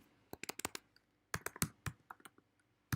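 Keys clack on a computer keyboard in quick bursts of typing separated by short pauses, crisp and close in a quiet room with no talk.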